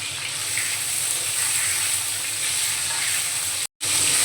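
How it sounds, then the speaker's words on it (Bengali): Young jackfruit pieces frying in hot oil in a pan, giving a steady, close sizzle and hiss that fills the whole stretch, with a brief dropout near the end and no talk. "ওই তেলের মধ্যে আমি কেটে রাখা এঁচোড়গুলো একটু ভেজে নেব।"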